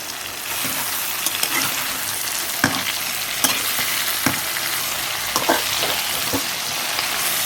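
Cumin seeds and tamarind frying in a pan, giving a steady close sizzle throughout with occasional sharper pops and crackles scattered across the stretch, no voices.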